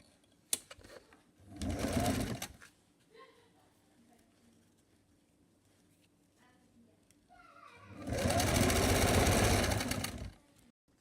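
Sewing machine stitching the neckline of a DIY front-open jacket, in two loud, steady runs of whirring stitches of about a second and two and a half seconds, separated by quieter handling noises.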